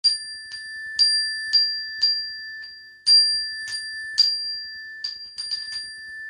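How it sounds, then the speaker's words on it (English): A small hand bell called the Artery bell rings about a dozen times in uneven strikes. Each bright, clear ding rings out and fades slowly, loud and close, with no talk over it. "So this is the Artery bell."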